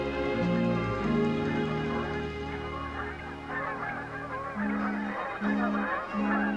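Several geese honk repeatedly nearby, their calls overlapping over a steady low drone.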